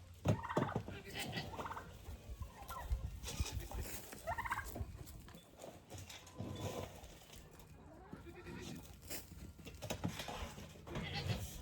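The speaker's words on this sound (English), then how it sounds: "these turkeys get kind of demanding" A demanding flock of farmyard turkeys waiting to be fed gobbles repeatedly in loud, rattling bursts, with overlapping calls from several birds close by and steady barnyard background noise.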